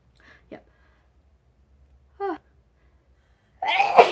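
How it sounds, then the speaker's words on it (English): After a couple of short breathy vocal sounds and silence, a single loud, sharp sneeze bursts out close by near the end. "I'm about to sneeze."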